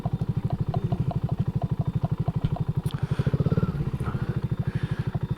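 A BSA Gold Star motorcycle idling while it is parked, a steady, rhythmic single-cylinder thump close by with some clatter and light rustling.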